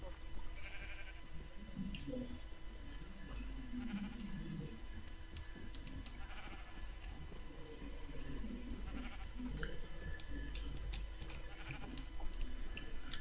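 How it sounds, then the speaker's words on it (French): Sheep bleat faintly in a farm setting, several scattered calls against steady background noise, with people talking quietly nearby. "Des moutons."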